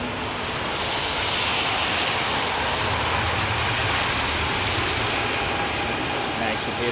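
Aircraft departing London Heathrow Airport in the rain, a constant distant roar of jet engines mixed with wet hiss, with a voice talking over it.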